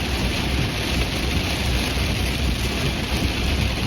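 Steady heavy rain from a Fourth of July thunderstorm roars with a dense, continuous hiss, like a storm downpour close by, with no talking.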